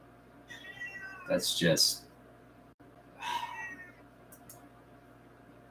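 A cat meows a few times, the cries rising and falling in two close bursts and then once more after a pause, with a person talking briefly over and between them.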